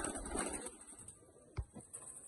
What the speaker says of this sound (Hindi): लेकिन ये मोतियों वाले कबूतर हैं।